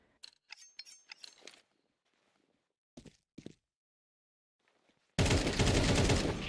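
Gunfire in a competitive video game match: short bursts of crisp shots ring out, a pause follows with two more quick volleys, then a loud continuous wash of noise takes over.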